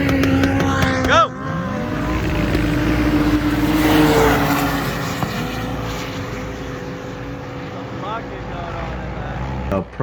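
Turbocharged Polaris Pro R and Can-Am Maverick R side-by-sides race off, engines revving and rising in pitch with a whining climb, loud and then fading into the distance, with voices over the sound.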